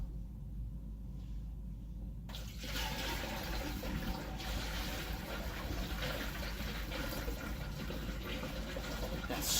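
Honey mixed into water is poured in for mead, a steady gushing, splashing stream of liquid that starts suddenly and keeps running at even strength.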